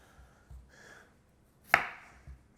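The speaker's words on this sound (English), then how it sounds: "Chop off tops and bottoms." Knife chopping sweet potatoes on a cutting board: soft thuds and scrapes, then one sharp, crisp chop standing out, followed by a lighter knock, close and quiet.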